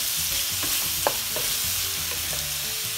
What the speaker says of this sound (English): We will saute until it's a brown, golden brown, not slightly brown,